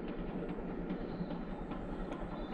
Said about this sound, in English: Steam train!